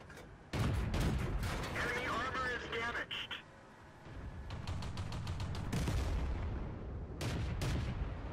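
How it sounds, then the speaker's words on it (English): Tank guns fire in the World of Tanks video game, with sharp booming shots and clanking game effects in irregular bursts, a voice talking over much of the action. "we've been taking a few shots at the Panzer 1C on the enemy team"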